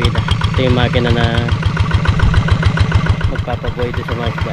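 A fishing boat's engine idles low to keep the water flowing and oxygenated for fish, a loud close steady chugging beat with regular knocks while someone talks over it.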